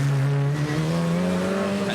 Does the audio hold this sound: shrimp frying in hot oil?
no